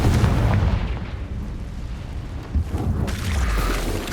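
Confringo and Incendio spell blasts in the Hogwarts Legacy video game, loud booming explosions that roll into one another with a dense rumble throughout and no speech.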